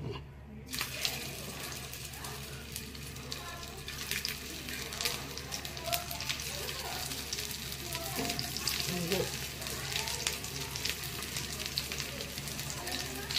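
Potato patties (aloo tikki) fry in hot oil with a continuous crackling sizzle after a sharp start, over a low steady hum, with faint clatter in the background.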